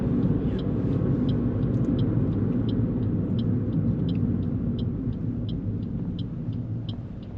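A car reverses slowly into a parallel park on a street, heard from inside as a steady low engine rumble with a quiet, regular reversing beep ticking through, no speech over it.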